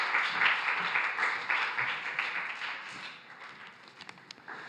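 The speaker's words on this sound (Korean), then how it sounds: "나오실 때 큰 박수 부탁드리겠습니다" A church congregation at a Sunday youth service claps as a speaker comes forward, a moderate steady round of applause that fades toward scattered claps at the end.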